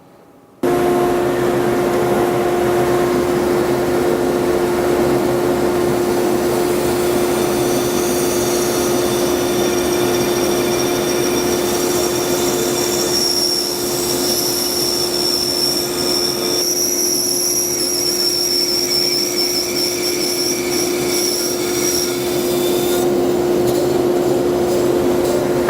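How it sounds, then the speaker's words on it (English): Bandsaw cutting wood for a cutting board in a workshop, a steady loud motor hum with a constant whine and shifting higher cutting noise sustained for about twenty-five seconds without a break. "take this to the bandsaw and we'll cut that out"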